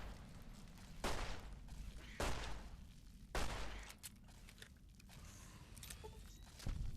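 Pistol gunfire in Fallout New Vegas inside Vault 22: several sharp, loud shots at irregular intervals, each a broad crack standing out over a steady background ambience, with a final shot at the end.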